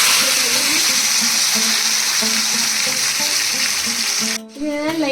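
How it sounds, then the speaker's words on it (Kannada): Marinated chicken fries in a pan with oil, ghee and fennel, giving a loud, steady sizzle and hiss that fills the whole stretch, with one brief dip in the sizzling near the end. "ಇದನ್ನ ಲೈಟಾಗಿ ಫ್ರೈ ಮಾಡ್ಕೊಳ್ಳೋಣ."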